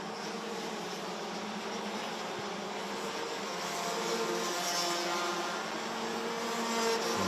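DD2 Masters racing karts pass on a track at a winter cup race, a distant engine drone that slowly grows louder toward the end, with no talk.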